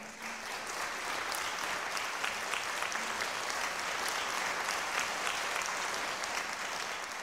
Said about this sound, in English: Can we have another big round of applause for these amazing artists?